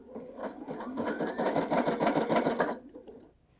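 A Sashiko sewing machine stitches steadily for about three seconds, its rapid mechanical clatter loud and close, then winds down to a stop.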